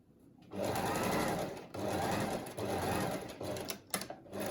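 A sewing machine stitches a fabric mask in three bursts of rapid, even whirring, with short pauses between them and a soft clunk near the end, heard up close.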